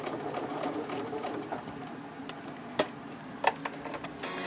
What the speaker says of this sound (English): I'm going to do a straight stitch across the bottom.